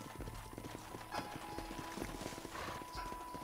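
Horses' hooves clip-clop steadily on the ground as riders dismount in the Red Dead Redemption video game, a continuous close trotting rhythm with a faint mechanical clatter beneath.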